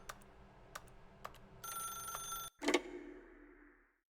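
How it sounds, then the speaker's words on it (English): Telephone in The Stanley Parable video game, a few short electronic rings at a regular pace, then a sustained bell-like buzz and a loud clatter that fades into a ringing decay, with no talk. "then pick up the phone."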